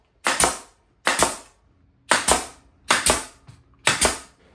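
Five sharp, evenly spaced nail gun shots drive fasteners into wood boards while a small planter box is built, each a loud percussive snap with a brief decay and quiet gaps between.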